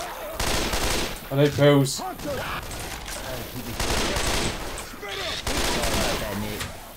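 Rapid bursts of gunfire in Left 4 Dead 2 on the Dark Carnival campaign at expert difficulty, loud and near, with repeated volleys through most of the stretch while players speak over the shooting.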